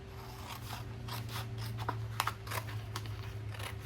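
Scissors snip through designer series paper in a run of quick, crisp cuts close by, irregularly spaced over a low steady hum, with no one talking.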